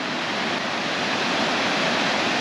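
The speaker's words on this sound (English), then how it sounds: "But the river here is really amazing." The Mackenzie River in Oregon rushes near a waterfall, a dense, steady roar of churning water filling the scene without a break, close and loud.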